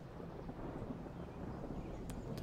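Thunder effect from the Lightning Strike card in the video game MTG Arena, a low, steady rumble rolling continuously at a faint level with a couple of sharp crackles near the end.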